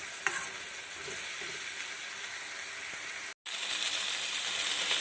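Amla (gooseberry) pickle sizzling and frying in a pan while being stirred, a steady hiss with faint scraping strokes, cut by one brief drop to silence before the frying noise resumes slightly louder.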